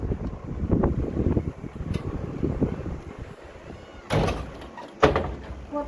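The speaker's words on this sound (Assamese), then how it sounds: "বাপৰে এনেকুৱা জোৰে বতাহ বৰষুণ দিছে না" Strong wind and rain lash a house during a storm while a window or door is being shut, with a steady gusty roar and two sharp knocks or bangs near the end.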